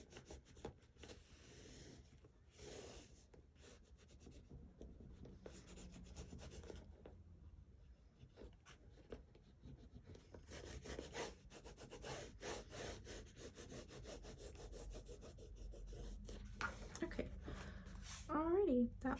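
Bone folder or tool pressed firmly along the spine edge of a handmade book cover, burnishing it down: steady rasping rubs repeating over many seconds, close and moderately quiet, with a few louder scrapes near the end.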